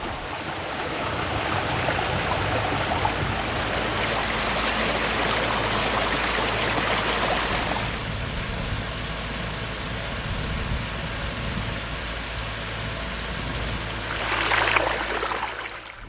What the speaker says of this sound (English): we stumbled on this mini waterfall on the side of the trail.